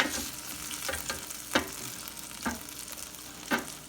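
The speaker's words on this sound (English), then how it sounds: "We're gonna let them set by another minute worth of air frying in here." Chicken wings air frying inside a Ninja Foodi Grill give off a steady low sizzle and hiss, with three brief louder clatters spaced about a second apart and no talking.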